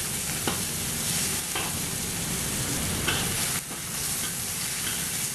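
Chicken and asparagus stir frying in a pan sizzle in a steady, dense hiss, with a few soft scrapes of stirring, close up and without any talking.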